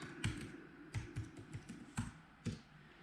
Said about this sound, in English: I'm just going to type in Navionics